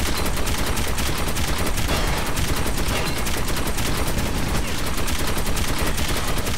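Sustained rapid automatic gunfire in the first-person shooter Metro 2033, loud, dense and continuous throughout with no pauses, dominating the mix.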